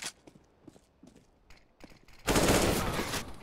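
Mac-10 gunfire in a Counter-Strike: Global Offensive match on the Train map: scattered footsteps and small shots, then a loud sustained burst of rapid automatic fire that fills the last second.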